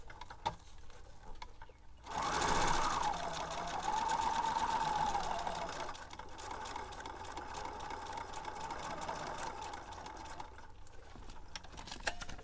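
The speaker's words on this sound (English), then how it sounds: "Now go ahead and sew and see what happens." A sewing machine stitching a beach journal craft project starts after a quiet moment, running in a steady close whirring burst for several seconds, then continuing more softly with light mechanical clatter.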